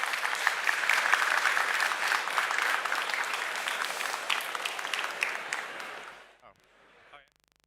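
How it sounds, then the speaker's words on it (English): Conference audience applauding panelists on a life science stage, a steady wash of many hands clapping for about six seconds before tapering off into a few last claps and quiet. "Please give a round of applause to our panelists."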